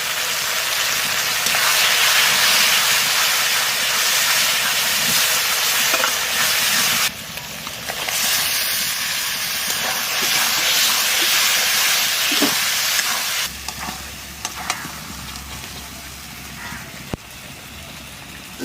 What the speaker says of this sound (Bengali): মশলার সাথে চর্বিটা একটু কষাই নিছি, ইঁচড়ের সাথে আর একটু কষাবো।